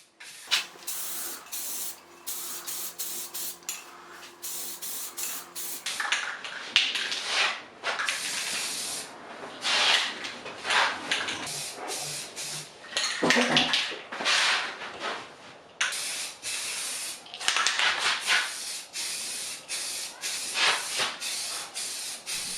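Long hissing bursts of a Rust-Oleum aerosol spray primer can on a wooden buffet, repeated on and off at close range, with short pauses and faint handling noises between sprays.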